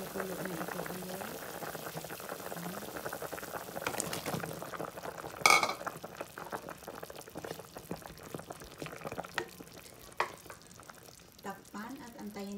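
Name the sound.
chicken binakol broth with buko juice boiling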